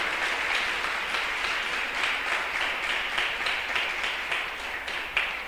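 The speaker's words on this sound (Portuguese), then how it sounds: "Você pode aplaudir o Senhor?" Applause from a church audience fills the room, dense and continuous with clapping that stays steady and fairly loud, then slowly thins toward the end, with no voices over it.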